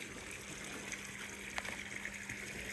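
Water gushes and trickles steadily nearby as it flows into an aquaponics garden bed, a continuous watery wash with a faint low hum beneath.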